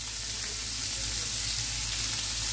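Cumin seeds splutter in hot oil for a mushroom tikka masala, making a dense, loud, steady crackling sizzle that fills the whole stretch with no talk.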